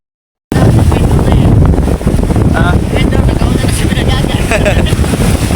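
Strong wind buffets the microphone on a boat at sea among large waves, a loud continuous roar and rumble of wind and water, with excited voices calling out over it.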